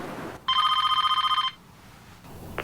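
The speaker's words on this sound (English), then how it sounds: "At the moment, the phone rang." Telephone bell rings in one sharp, fast-trilling burst of about a second, close and clear against quiet room tone.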